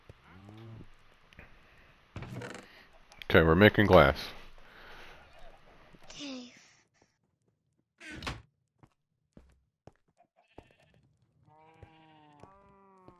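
Cows and sheep in the Minecraft video game give brief bleats and moos, several short calls toward the end, faint beneath a child and an adult chatting, with a few thunks from in-game building earlier.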